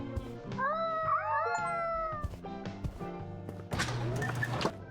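A video game cat lets out a few drawn-out, wavering meows, clear and prominent over a low electronic game hum, with a noisy burst near the end.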